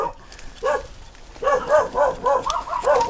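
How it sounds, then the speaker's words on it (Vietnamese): Several dogs bark excitedly in rapid repeated bursts, close and loud, with yips and whimpers mixed in at an outdoor rural spot. "Mấy con chó loạn lên."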